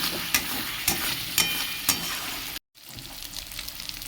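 Spice paste with poppy seeds and black cumin frying in oil, a loud steady sizzle punctuated by rhythmic spatula strokes, then a brief cut to silence before the sizzling resumes.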